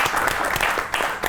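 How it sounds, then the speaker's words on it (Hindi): Studio audience applause greeting a guest on a comedy talk show, a brief, loud, continuous wash of clapping from a full crowd with no talking. "आपकी बहुत सी तालियों में द वन एंड ओनली"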